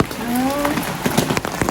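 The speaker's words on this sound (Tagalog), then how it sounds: "Lumalakas na yung ulan. Bagyo na eh." Strong rain from Typhoon Leon hisses loudly and steadily, close by and dense, with a voice speaking briefly over the downpour.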